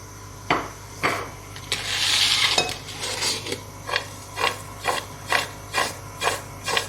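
Salt and turmeric being stirred together in a vessel while making moringa pickle: a regular series of scraping, clinking strokes, roughly one or two per second, close and fairly quiet, with no talk.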